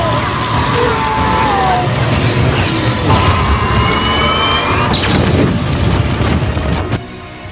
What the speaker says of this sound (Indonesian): Yondu menembakkan serangan laser kepada semua kelompok prajurit Sovereign itu sampai mereka semua meledak tak tersisa.